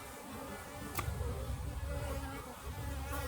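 Honey bees from a failing hive colony hum in a dense, steady buzz at close range, a low drone with a brief louder flare from a single bee passing near.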